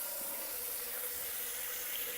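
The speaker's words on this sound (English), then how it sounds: "Next, thoroughly rinse out your shower head with water." Water streams steadily from a handheld shower head as it is rinsed clean of a bleach solution, a continuous close hiss of spray with no talking.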